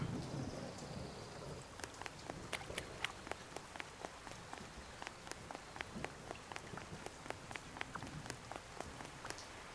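Steady video game rain from Duck Detective: The Secret Salami falls with a dense hiss, punctuated by sharp drip-like ticks throughout; no talking.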